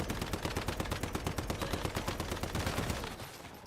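Rapid automatic gunfire in the survival video game Endless Dream: a fast, even burst of shots at about ten per second, loud and close, for roughly three seconds before cutting off into a short fading tail.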